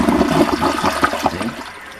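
A household toilet flushing with water rushing loudly through the bowl, a steady churning wash that gradually thins and quiets toward the end, with no voices present.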